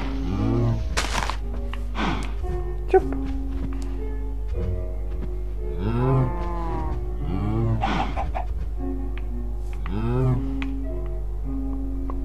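Cows lowing in the video game Minecraft, with several short, drawn-out moos spaced across the stretch over a steady low background hum, with no talking.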